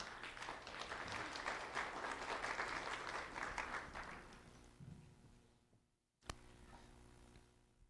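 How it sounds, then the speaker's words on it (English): Audience applause for a kindergarten student at a sheriff's office award ceremony, several seconds of dense clapping that fades out, then a brief quiet gap and a single sharp knock. "Let's have a round of applause for Acalia Clark."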